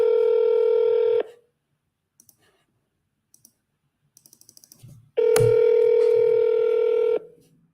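Two long ringback tones of a phone call on speakerphone, loud and steady with a silent gap between them, broken by scattered clicks and taps.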